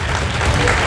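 An audience at a government school event claps together in a brief, dense burst of applause that sounds close and fills the short moment.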